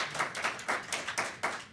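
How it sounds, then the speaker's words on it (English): At a Michigan Public Service Commission meeting, a small group claps in a brief, uneven run of about eight soft claps, fairly faint and alone. "That's fine, you can clap for that."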